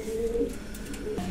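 Pouter-cross pigeons coo in a loft, a low, soft throaty burble repeated twice, close by and fairly quiet.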